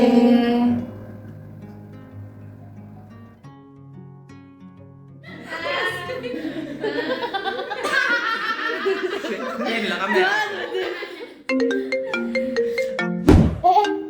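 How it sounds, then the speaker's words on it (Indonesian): A mobile phone ringtone plays a melodic tune at the close of a student executive board meeting, with laughter and chatter from several people around it. "HP siapa yang bunyi"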